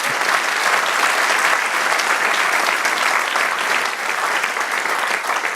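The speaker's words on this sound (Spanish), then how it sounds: "Denle un aplauso al Señor." A church congregation gives steady, loud applause, dense clapping from many hands sustained evenly throughout.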